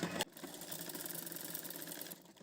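A sewing machine stitches a girl's lehenga blouse with a steady, fast mechanical whir that runs continuously after a brief opening burst, fairly quiet and with no talk.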